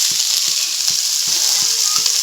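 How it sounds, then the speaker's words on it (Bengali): Fenugreek leaves with potato, onion and dried red chilli frying in a karai, giving a steady bright sizzle throughout with occasional scraping stirs of a spatula. "এখানে আমার মেথি শাক ভাজা হচ্ছে"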